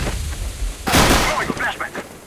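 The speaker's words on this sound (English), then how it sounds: "I'm throwing a flashbang." A flashbang grenade bursts during a Counter-Strike: Global Offensive pro match at ESL One Katowice 2015, a loud broadband blast followed by ringing and scattered in-game noise under ongoing commentary.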